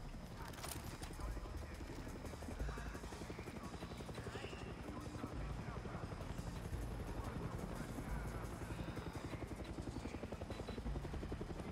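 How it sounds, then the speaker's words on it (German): A helicopter's steady rotor thrum drones continuously in the game Far Cry 6, with hoof-like clatter and faint effects layered over it. "Ein Heli ist tatsächlich gar nicht gut."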